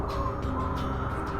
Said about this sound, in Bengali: একটা পাখির ডাক শোনা গেল 2 বার।